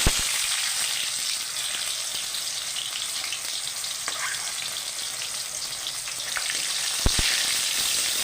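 Tomato sizzles steadily in a hot pan, a constant close frying hiss with a couple of faint clicks, no voices.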